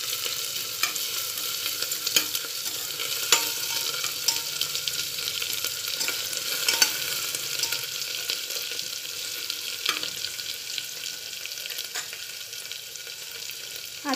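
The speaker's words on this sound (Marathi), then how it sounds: "जिरी, मोहरी, कढीपत्ता आणि लसूण, अद्रक, कोथिंबीरची पेस्ट टाकू आपण। हे चांगलं हलवून घ्यायचं।" A paste of cumin, mustard seeds, curry leaves, garlic, ginger and coriander sizzles in a hot pan and is stirred, giving a continuous frying hiss broken by scraping strokes and small pops.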